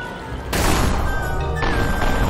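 A sudden loud explosion in the video game Pumpkin Jack bursts in and settles into a sustained, rumbling roar of debris and noise that lasts until the end.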